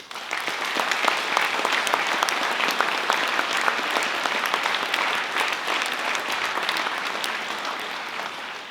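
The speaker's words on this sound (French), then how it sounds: "Je crois que vous pouvez vraiment les applaudir." Sustained applause from an audience at a mayor's New Year address, honouring the fire brigade and security forces; dense, steady clapping fills the room from start to finish with no voices on top.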